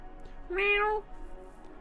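A single small, high-pitched cat meow rises and falls in about half a second against a quiet background, close and clear.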